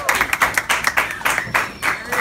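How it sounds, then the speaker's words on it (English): A biology class claps and cheers together, a dense burst of hand claps with bright voices whooping over it, lively and close throughout. "Let's all clap and cheer."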